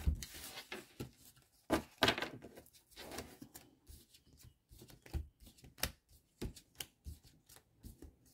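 Tarot cards being shuffled and drawn, a steady run of close, soft riffling and slapping sounds with uneven bursts and brief pauses, no talking.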